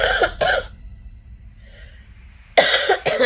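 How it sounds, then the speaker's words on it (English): Two sharp coughs open the clip, a quiet breathy pause follows, then two more coughs close it, close and loud. "And I always cough"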